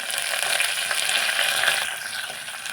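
Curry leaves crackling in hot oil in a pan, a loud steady sizzle with dense popping that fills the whole moment, no voices over it.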